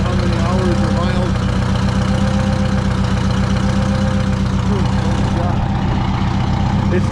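A truck's rebuilt engine idles under light load, a steady close rumble with even low harmonics running throughout, fairly loud and unchanging, with faint background noise.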